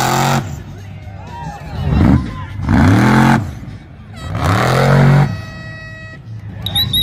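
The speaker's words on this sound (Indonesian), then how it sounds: "Di sini ada mobil monster." Monster truck engine revving in repeated rising and falling surges, loud and fairly close, with a crowd and voices talking over it.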